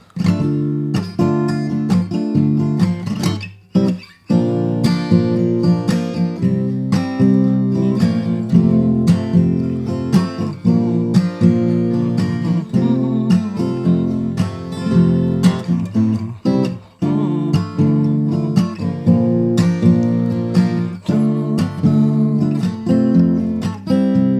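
A full band plays a steady chord progression with drums, bass and sustained harmony, loud and continuous.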